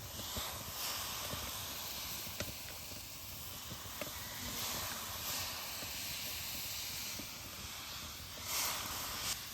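A pot of water with a little turmeric and pieces of mutton chusta boils steadily, giving a continuous soft steamy hiss with faint bubbling pops.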